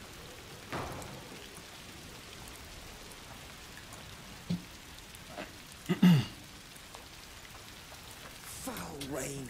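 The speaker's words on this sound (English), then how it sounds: "Foul rain." Rain pours steadily in the video game A Plague Tale Requiem, a continuous patter and hiss broken by a few short, louder thumps and rustles.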